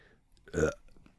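A single short, deep belch from a woman in a tavern, close and fairly loud, standing alone against quiet.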